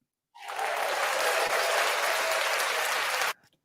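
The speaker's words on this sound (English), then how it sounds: "that one round of applause is going to get very dull" A canned applause sound effect played during a live stream: an even burst of crowd clapping that starts abruptly, holds steady for about three seconds, then cuts off sharply.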